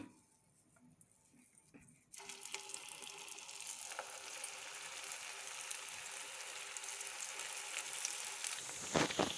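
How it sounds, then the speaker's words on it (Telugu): Meal maker manchurian balls are dropped into hot oil for deep frying. After a quiet opening, a loud, bubbling sizzle bursts in and keeps building, with crackling spatter near the end. "ఆయిల్ హీట్ అయిందండి ఇప్పుడు మంచూరియా బాల్స్ వేసుకుందాం"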